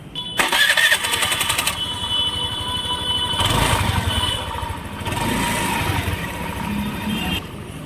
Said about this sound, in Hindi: एक सेल्फ में ही गाड़ी स्टार्ट हो गई